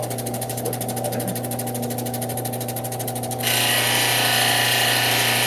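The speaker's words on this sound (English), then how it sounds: "a bit more coarse grit, I have to do on this side, like deburring the edge on the bottom" Coarse grit cabbing wheel grinding and deburring the bottom edge of an unfinished stone: a continuous motor hum with a rapid rattling buzz that gives way to a harsher, louder grinding hiss partway through.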